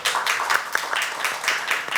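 An audience applauds at a Korean human-rights forum session on migrant children and youth, a dense, steady patter of many hands clapping throughout at moderate loudness, with no voices over it.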